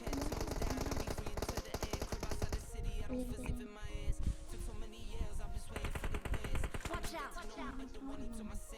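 Warning shots ring out in a PUBG Mobile match as rapid gunfire bursts rattle on. Repeated loud cracks and some faint voices sit under a steady stream of game sound.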